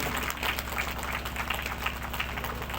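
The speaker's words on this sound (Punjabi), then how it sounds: "ਤਾੜੀ ਮਾਰੋ ਹਾਲੇਲੂਇਆ" A church congregation claps together during a worship service, a steady, dense patter of many hands that carries on throughout over a low sustained musical hum.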